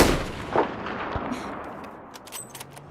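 In the shooter game Battlefield 4, a loud explosive gunshot or artillery blast opens and then rumbles and decays, followed by a few fainter distant shots.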